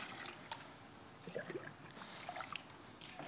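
Filthy water, fouled with waste, sloshes and trickles quietly as it is stirred in a jug, with soft scattered splashes and no voices.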